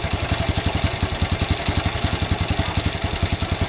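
A Honda Revo Absolute motorcycle engine with a freshly cleaned carburetor idles steadily up close, with a fast, even chugging pulse and a faint mechanical rattle, and no voices.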